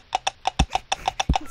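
Horse hooves clip-clop in a brisk, even rhythm, about ten crisp, close knocks in quick succession with no voices over them.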